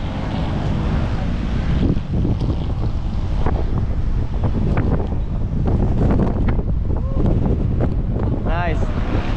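Strong wind buffets the microphone on an outdoor football field, a loud continuous rumbling roar, with players and a coach shouting faintly underneath.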